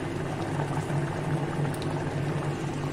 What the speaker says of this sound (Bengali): কেটলিতে গরম জল করে নিলাম, গরম জল অ্যাড করে দিলাম।